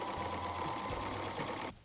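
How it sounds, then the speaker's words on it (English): A sewing machine runs steadily stitching along the edge of a denim cushion cover, a continuous close mechanical whir with rapid needle rhythm that cuts off abruptly near the end. "then we're going to stitch it just on the edge here"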